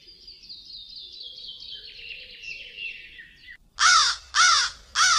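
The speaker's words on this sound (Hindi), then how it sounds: "एक कौवा टहनी पर बैठा काई काई कर रहा था।" Crow on a tree branch in a Hindi cartoon: three loud, harsh caws in quick succession near the end, after a long stretch of a high warbling, whistle-like tone.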